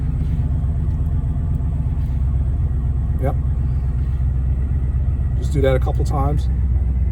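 A car driven a short distance to test newly installed PowerStop brake pads and rotors: steady low engine and road rumble throughout, close and continuous, with someone briefly speaking over it.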